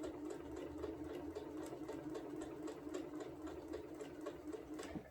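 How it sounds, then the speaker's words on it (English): A sewing machine stitches a quilted placemat, its needle clattering in a fast, even rhythm over a low motor hum, quiet and steady throughout with no talking. "I'm going to go ahead and sew those."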